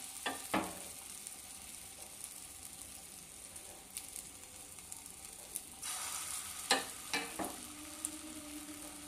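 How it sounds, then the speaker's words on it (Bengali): Kofta balls frying in hot oil over medium heat, a quiet steady sizzle broken by several sharp clicks and taps of a utensil against the pan. "সবগুলো কোপ্তা তেলে দিয়ে দেব আর এপিট ওপিট লাল করে ভেজে নেব"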